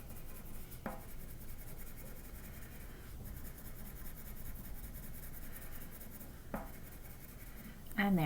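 A pencil lightly shading a sphere on paper for an op art sketch, touching with feather-light pressure: a soft, continuous scratchy rubbing with a few slightly sharper strokes, faint and close.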